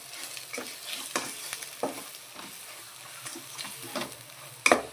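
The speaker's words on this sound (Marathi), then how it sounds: "चांगलं तेल सुटेपर्यंत आपण चांगलं परतून घेणार" Spoon scraping and stirring through vegetables and masala frying in oil, with a steady sizzle underneath and a sharper clatter near the end.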